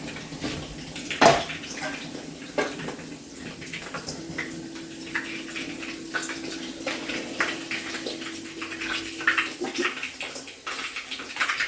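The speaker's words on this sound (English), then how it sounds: "I'm going to wash them before I put them in the pot." Broccoli rinsed under a running kitchen tap, a steady gush of water with splashes and clunks as the florets are handled, close by, with no voices.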